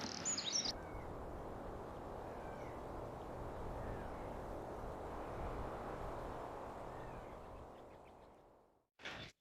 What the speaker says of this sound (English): That little bird in the background is keeping you company.